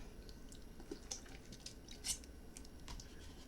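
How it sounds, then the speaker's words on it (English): Someone quietly sips a cup of water, with faint wet slurps and soft swallowing clicks close to the mic in an otherwise hushed room. "I'll just have a cup of water."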